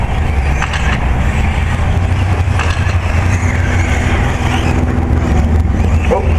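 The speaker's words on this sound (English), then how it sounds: "Definitely tell these trucks are starting to slow down just a little bit." Electric RC 4WD short course off-road trucks race at a dirt raceway, a continuous whine and rumble of motors throughout, loud and close, with faint crowd noise.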